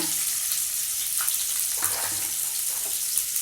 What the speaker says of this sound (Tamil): அடுத்து வந்து கட் பண்ணி வச்சுருக்க பெரிய வெங்காயம் போட்டுக்கோங்க.